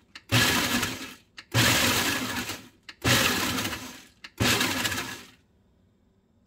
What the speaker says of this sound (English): So we're just gonna quickly pulse.